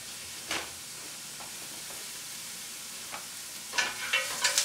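Shallots frying in a pan for bourbon praline pork tenderloin, with a steady, close sizzle and hiss and a few sharper stirring scrapes toward the end, no voices.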